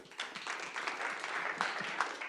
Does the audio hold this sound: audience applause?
yes